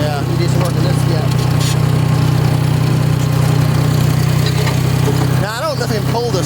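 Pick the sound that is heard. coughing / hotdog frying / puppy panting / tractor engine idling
tractor engine idling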